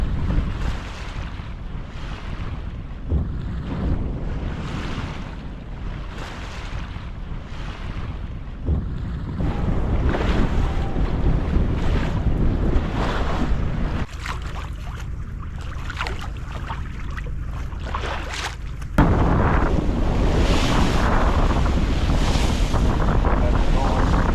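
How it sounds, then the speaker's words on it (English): Steady wind roars across the microphone and waves wash against the hull of a sailboat heading into Mahone Bay, a continuous loud rush that swells and shifts over time with no talk. "We got some wind now."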